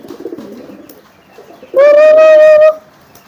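A nearby domestic pigeon gives one loud, clear cooing call of about a second, after faint rustles and low murmurs in a quiet coop.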